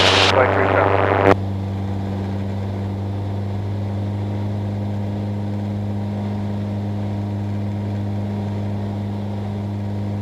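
The engine of a light high-wing training aircraft after power is increased: a loud, steady, close droning hum with a strong low tone that holds evenly throughout, opening with a brief bright rush of noise.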